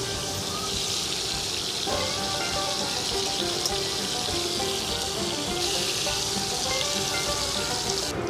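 Catfish pieces hit hot oil in a pan and fry, giving a loud, continuous crackling sizzle that swells briefly as more pieces go in.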